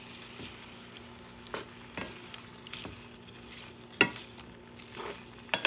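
Pepper steak sizzling in a pan with onions and a balsamic, low sodium soy sauce and white wine vinegar mix, a steady quiet fry under occasional stirring scrapes and utensil clicks against the pan.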